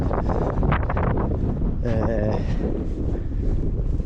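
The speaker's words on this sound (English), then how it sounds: "It's a lot more breezy up here." Breezy wind on a hilltop along the Alport Castle walk, roaring and buffeting against the microphone throughout, loud and steady, with a brief voice mixed in partway.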